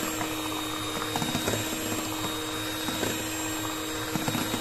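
An electric beater whirs steadily as it mixes cake batter with sunflower oil for a Barbie cake, a continuous loud motor drone with slight rattling pulses and no talking.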